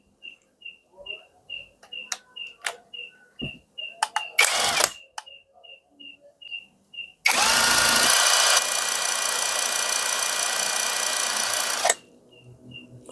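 A Monake 48S impact wrench runs at low speed in a sustained, loud whir lasting several seconds, preceded by scattered clicks and handling noises and ending abruptly.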